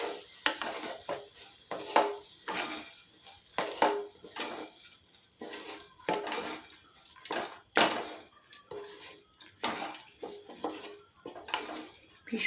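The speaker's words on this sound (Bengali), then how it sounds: "এটা দিয়ে ভালো করে মশলাটা মিশোতে হবে এটার সঙ্গে।" A spoon stirs chopped tomato into frying spices in a pan while making bhoger khichuri, sharp scraping strokes repeating irregularly over a faint sizzle, close and alone without talk.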